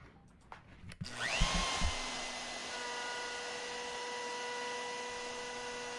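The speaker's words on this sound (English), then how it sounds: "that will give me the proper positioning to run this dado across the table" A router fitted with a 3/4 inch bit spins up after a few handling clicks and settles into a steady high whine while cutting a dado across a drill press table, close and continuous, no voices.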